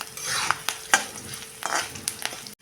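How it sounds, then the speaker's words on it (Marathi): Chana dal and urad dal are dry-roasted in a pan for lemon rice, with quick, scraping stirs and a soft, crackly sizzle from close by. "टाकूया ही हरभरा डाळ आणि उडीद डाळ. ही आता डाळ चांगली लालसर होईपर्यंत आपण परतत राहायचं आहे"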